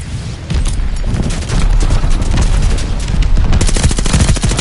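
Video game gunfire from Call of Duty Vanguard: loud, dense, nearly continuous automatic fire layered with heavy booms, hammering on without pause for several seconds.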